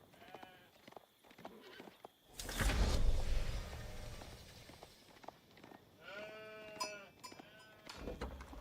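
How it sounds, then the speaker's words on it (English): Sheep bleat in a real-time strategy video game, several short wavering calls in two bursts around a loud whoosh-and-shatter effect, with other game sounds in between. "It's a good amount of sheep being brought back now by BSD."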